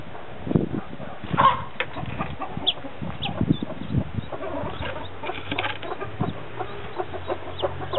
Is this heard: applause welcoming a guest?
no